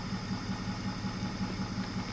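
A 1958 GMC fire truck engine with a blown head gasket idles steadily, a low, even throbbing pulse repeating about five times a second, close and unbroken with no voices.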